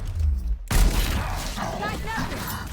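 A single sharp gunshot in the tactical game Gears Tactics, a sudden loud crack with a heavy low boom, followed by rumbling echo and battle noise, with a voice talking before and after it.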